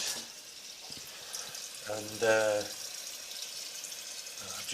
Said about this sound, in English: I'm just going to put a bit of water in there